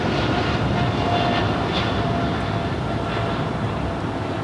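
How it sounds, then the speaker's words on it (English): American Airlines Boeing 777 taking off at LAX runway 25 right, a loud, steady jet roar with broadband rumble sustained throughout, no voices over it. "It's the American 777 heading to London Heathrow,"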